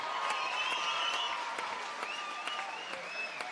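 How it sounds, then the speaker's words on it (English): A boxing crowd at a professional fight night applauds both boxers after the bout, with steady clapping across a large hall and a few shrill whistles riding over the noise. "Let's hear a big round of applause for both of these warriors."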